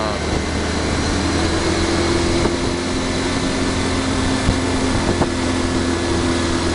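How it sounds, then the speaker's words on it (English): Scooters stream through city traffic in Taiwan, a steady, dense engine drone with a constant low hum and no breaks, loud and continuous throughout. "This is how fast scooters drive."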